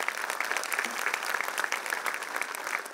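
A crowd claps in a dense, even burst to welcome a guest at a Ganesh festival's diamond jubilee celebration, sustained applause for about three seconds with no voices standing out.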